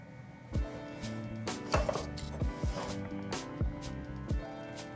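Knife chopping cantaloupe on a cutting board in a home kitchen, about seven to eight sharp, irregular chops spread across the clip, close and fairly clear over faint background hum.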